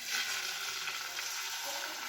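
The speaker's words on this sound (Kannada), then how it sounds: "ಈಗ ಮಿಕ್ಸ್ ಮಾಡ್ಕೊಂಡಿರೋ ಅಂಥ ಎಗ್ ಹಾಕೊಳ್ಳೋಣ್ರಿ" Beaten egg hisses and sizzles steadily as it is poured over oiled bread in a hot pan for a bread omelette, a close, continuous frying crackle with no talking.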